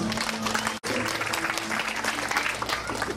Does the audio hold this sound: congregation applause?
yes